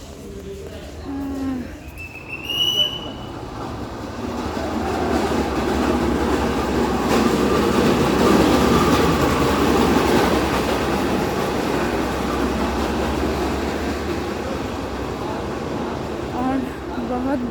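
A train at New Haflong railway station rumbles and clatters steadily, building to a sustained roar, with faint voices and brief high tones near the start.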